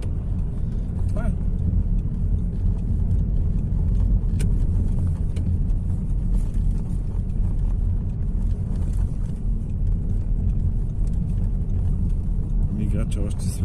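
Car interior while driving over cobblestones: a constant loud, low rumbling drone with a steady vibration. People talk over it from time to time.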